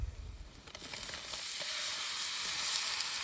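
Onions and ground ginger-garlic spice paste sizzle in a pan on a village stove, a steady close hiss that swells slightly and continues throughout with no talking.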